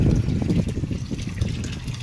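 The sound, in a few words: water flushing out during water heater service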